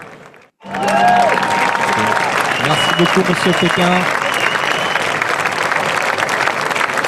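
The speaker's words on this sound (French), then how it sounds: "Sous une salve d'applaudissements" After a brief thanks from a speaker, a burst of loud audience applause rises and stays full and continuous, launching a 24-hour web competition.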